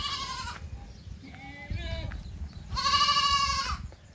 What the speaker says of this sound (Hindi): चलिए बकरी का दूध निकालते हैं